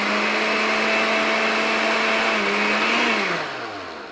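A kitchen blender whirs loudly at steady high speed, puréeing pizza sauce with sugar and Italian dry seasoning, then its pitch falls as the motor spins down near the end.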